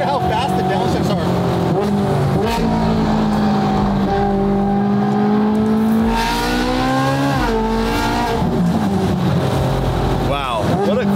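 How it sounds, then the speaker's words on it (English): Ferrari 458 GT3 widebody race car snarling at high revs, with quick rising and falling pitch sweeps as it downshifts rapidly, loud and close with voices and crowd noise underneath. "Listen to how fast the downshifts are."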